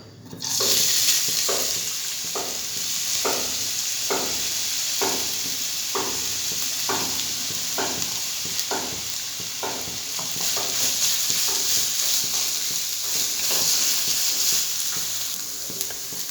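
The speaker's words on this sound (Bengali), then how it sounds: "এর মধ্যে আমি গ্রেট করা আলুটা হালকা ভেজে নেব" Steady, loud sizzling of grated potato frying lightly in oil, with a spoon scraping the pan in a regular rhythm roughly once a second throughout.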